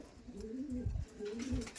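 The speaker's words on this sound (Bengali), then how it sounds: "এই দেখুন এই একটি গোল্ডেন মাদি আছে" A golden female pigeon coos in soft, low, rolling throaty calls, two or three close murmured phrases in a quiet setting with light background rustle and no talk.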